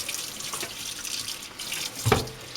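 Tap water runs steadily over parts of a Breville BJE200XL juicer in a sink, a close splashing rush with a brief clatter of handled plastic near the end, no voices.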